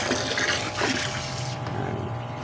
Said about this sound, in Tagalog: Dagdagan na lang natin ito ng tubig.